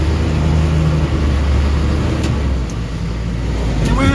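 A Chevy M1009 CUCV military Blazer drives through 6 to 10 inches of snow at night in a minus 5 degree blizzard in 4-wheel drive, a loud steady low engine rumble heard from inside the cab.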